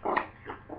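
Two dogs in a scuffle, giving a few short, close growling and whimpering bursts that rise and fall over less than a second, with no talking.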